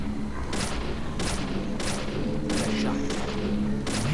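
Repeated gunfire bursts from a shootout in the Deadly Premonition video game, about six sharp volleys at a steady rhythm over a continuous low hum of game background sound.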